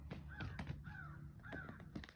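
Several harsh crow caws sound in a loose series from a short distance away. A steady low background hum runs beneath the calls, and no voices are heard.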